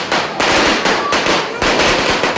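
Rapid bursts of New Year firecrackers in the Philippines crackle and pop continuously, dense overlapping bangs with a few louder blasts, nearby and loud throughout.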